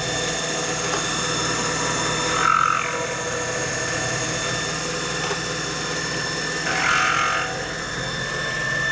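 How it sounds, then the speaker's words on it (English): A cartridge case trimmer spins at very high RPM while chamfering brass cases, a steady whirring tone held for the whole stretch, with two brief louder swells as a case is pressed to the cutter. "The trimmer is spinning at a very high RPM"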